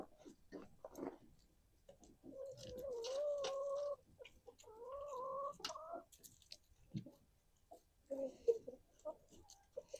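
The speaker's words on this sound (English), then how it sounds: "Here's King Henry, our big rooster, and the ladies" A rooster and hens on a homestead cluck and call nearby in a few bursts, with quieter scratching and pecking sounds between them.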